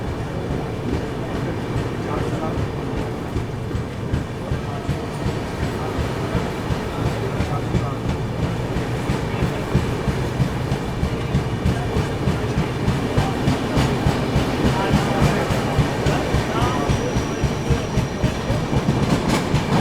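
The Vibhuti Express pulls out of Panagarh station, its wheels clattering in a steady, quickening clickety-clack over a loud, continuous rumble from inside the moving coach.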